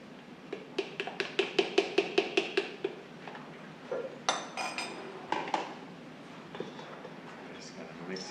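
A dressing is stirred into a beet and bulgur salad, and a utensil clinks rhythmically against the bowl about a dozen times in quick succession. Softer scattered taps follow, with some talking in the background.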